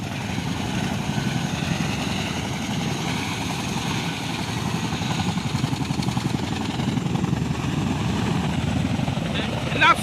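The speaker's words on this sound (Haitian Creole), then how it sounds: "suivre hélicoptère qui a volé là." A helicopter passes overhead with a steady, dense rotor thrum and engine drone that holds at a fairly loud level for the whole stretch, with voices talking faintly over it.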